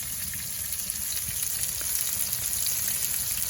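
A patty sizzles and fries in a pan inside a hot tent on an overnight camping trip, a steady dense crackle running unbroken throughout at close range.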